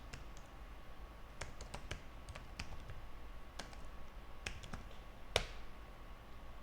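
Computer keyboard typing while entering a Java security provider setting: sparse, irregular key clicks over about seven seconds, fairly close but quiet against a steady background hum.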